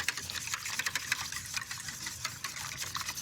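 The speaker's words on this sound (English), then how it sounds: "when we're whisking eggs" Raw eggs being whisked with a pinch of salt in a bowl, a fast steady clatter of rapid scraping strokes, close and continuous, with no talking.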